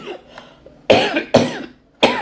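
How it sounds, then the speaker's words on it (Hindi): A woman with a sore throat coughs three times in close, harsh bursts after a few quieter breathy sounds, with no talking in between. "मेरे गला खराब और खांसी मुझे हो रही है"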